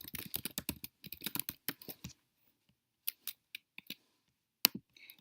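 Close, crisp keystrokes on a computer keyboard: a quick burst of rapid typing, then a pause and a few separate, well-spaced taps and clicks in a quiet room.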